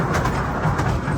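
A train ride heard from inside a carriage on a Mumbai outing: a constant low rumble with faint rhythmic clatter, close and steady, without speech.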